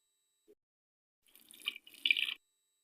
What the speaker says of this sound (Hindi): तो अब जो है हम जूसर का जग ले लेते हैं। इसमें हम डाल देंगे थोड़ा सा दूध।